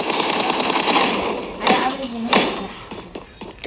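Rapid pistol fire from the video game PUBG rattles loudly in quick repeated shots over a dense busy background, with a voice talking over part of it.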